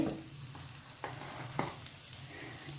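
A mixture of overripe banana fries in a pan, with a faint steady sizzle and a few soft stirring scrapes, quiet and close.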